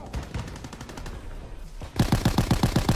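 Rapid bursts of AVS-36 rifle fire in Call of Duty WW2, with quick repeated shots that grow louder and punchier toward the end.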